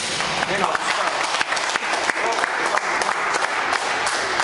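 Audience applause fills a bench press competition hall, dense steady clapping from a crowd throughout, with an announcer's voice faintly underneath.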